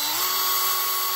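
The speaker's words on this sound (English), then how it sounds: "rather than go getting a bigger drill, I'll just wiggle the drill around a little bit" Small drill boring a hole for a Halloween craft decoration, a steady high-pitched whine held at constant speed throughout.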